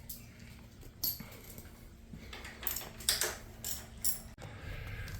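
A hand ratchet works loose two 10 mm bolts on a motorcycle fuel tank, giving a few short bursts of quick clicking spread over a few seconds, close and fairly quiet in a garage.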